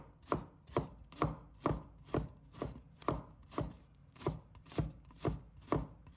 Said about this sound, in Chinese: 把它们切成末。